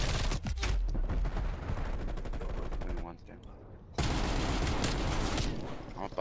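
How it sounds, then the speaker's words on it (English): Rapid semi-automatic gunfire in the Black Ops Cold War video game cracks out in dense bursts, breaks off for about a second, then resumes just as loud, with a voice talking partly over it. "Mr. McGurk, you shooting that semi-auto pretty fast."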